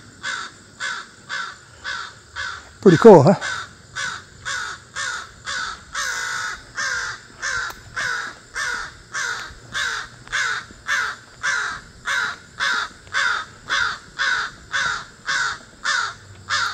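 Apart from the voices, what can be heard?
crow cawing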